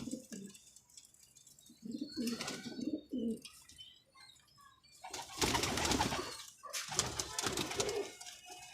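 Pigeons kept in pairs at a pigeon club coo in soft, low, rolling bursts close by, with louder rustling and handling noise over the second half. Faint voices are heard.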